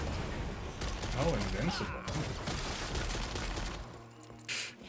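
Rapid bursts of gunfire from the video game Lost Ark rattle under a speaking voice, followed by a brief pause and then a short whooshing effect.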